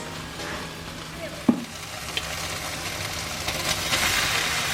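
Bicol Express is stirred in a frying pan: a soft, continuous sizzle with a sharp knock of a utensil early on and scattered scraping stirs.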